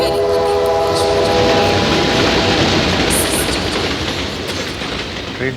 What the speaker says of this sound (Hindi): ट्रेन ब्रिज पे से गुजर रही है।